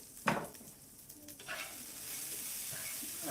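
Potatoes and onions frying in a pan for a steak-and-eggs lunch, a steady soft sizzle with a brief scrape of stirring near the start and a quieter hiss throughout.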